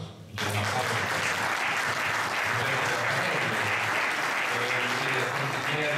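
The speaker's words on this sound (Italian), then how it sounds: "Mi chiedo un applauso per questo." An audience applauds at an award ceremony for the 5th Vittorio Minasi Memorial, a dense, steady round of clapping that swells in after a brief quiet start and holds loud throughout, with a faint voice murmuring underneath.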